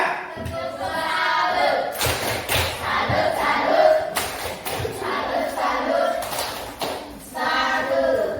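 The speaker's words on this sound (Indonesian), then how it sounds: "Tepuk tangan untuk kelompok 3." A classroom group claps for student group three, with bursts of hand claps and lively voices and cheers from the class mixing throughout.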